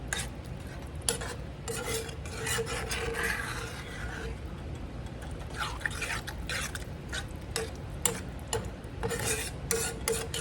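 Butter being stirred into fresh corn cut off the cob in a pan, a continuous wet scraping and squelching of the spoon through the kernels with faint sizzling underneath, close and steady without pauses.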